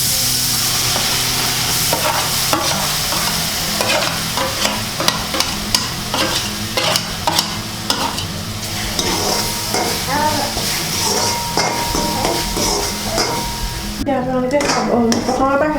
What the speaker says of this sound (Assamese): এতিয়া আমি নাৰিকল আৰু চেনিখিনি ভাজিম।